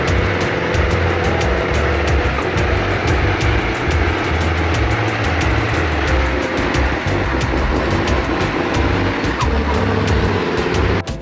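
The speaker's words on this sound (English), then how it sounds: "watch this MACK R600 truck as it struggles to climb a small hill with a full load of logs" A Mack R600 logging truck laden with a full load of logs labours up a small hill, its engine droning loud and close in a continuous heavy rumble with a steady rhythmic knocking and no talking.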